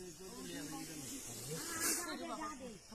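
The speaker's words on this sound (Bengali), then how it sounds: "বহুদিনের সাপ পুরানো মাল" A large, old hooded snake, reared up, hisses in a steady breathy rush under excited voices talking over it, fairly faint overall.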